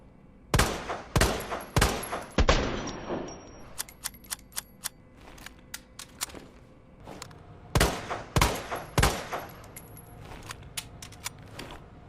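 Chris's handgun from Resident Evil 2 Remake, fired by Leon in the game, lets off sharp gunshots in two bursts of several rapid cracks, with single shots spaced between them, loud and punchy against a quiet background.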